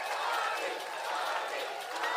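A crowd at a political rally for an independent presidential candidate, a steady mass of many voices rising and falling together in a continuous chant, fairly distant and diffuse with no single voice standing out.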